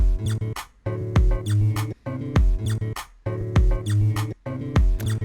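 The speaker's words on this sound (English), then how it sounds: "Now we're going to choose this little squeaky sound" Little squeaky sample on a Teenage Engineering sampler, set into a looping pattern: bright chirpy squeaks repeat over a steady beat, with regular short gaps between phrases and no talking.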